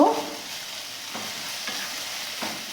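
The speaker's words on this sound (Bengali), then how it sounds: "এটাকে ভালো করে একবার নাড়ব" Bottle gourd greens with poppy seed, salt and a little sugar are stirred in a hot pan, with a soft sizzle throughout and a few scraping strokes of the spoon.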